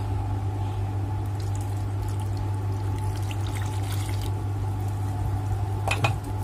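Water poured from a glass into a pot of sticky rice at home, a steady close pour with a faint trickle over a constant low hum, ending in a few brief clinks near the end.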